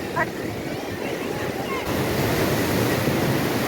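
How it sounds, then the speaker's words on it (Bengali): Ocean surf breaking steadily on the beach at Puri, a continuous loud roar of waves mixed with wind buffeting the microphone, swelling slightly stronger partway through. "ঢেউটা কিন্তু ক্রমাগত বাড়ছে"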